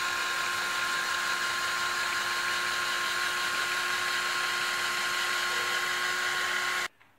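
An electric drill turns a car jack, raising or lowering it, with a continuous steady whine and motor hum that runs unbroken for nearly seven seconds before stopping abruptly.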